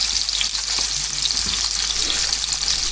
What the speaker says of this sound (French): on va les marquer, on va les cuire comme ça à la poêle, gentiment